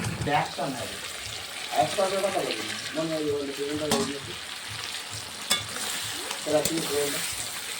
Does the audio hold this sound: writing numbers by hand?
no